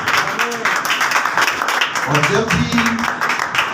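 A congregation applauds loudly during an Urdu/Hindi sermon, producing a dense, crackling run of claps. A man keeps preaching over the clapping, and his voice comes through clearly in the second half.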